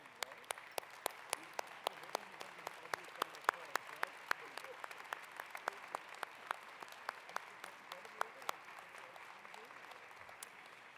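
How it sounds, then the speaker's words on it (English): An audience at the 2018 Parliament closing ceremony applauds volunteers, a sustained round of scattered, moderately distant clapping with sharp individual claps standing out over about ten seconds. "Please come now as we applaud you."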